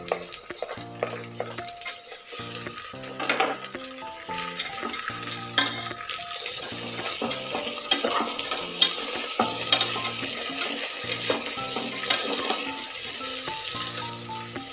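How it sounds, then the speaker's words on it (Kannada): Vegetables being stirred and fried in a hot tempering for white vegetable pulao, a steady close sizzle with repeated scraping stir strokes and clinks, no voices, with tonal music running underneath throughout. "ಇವೆಲ್ಲವನ್ನು ಹಾಕಿ ಒಳ್ಳೆಯದೊಂದು ಮಿಕ್ಸ್ ಕೊಟ್ಟು ಒಗ್ಗರಣೆಯಲ್ಲೇ 1 ನಿಮಿಷಗಳ ಕಾಲ ಫ್ರೈ"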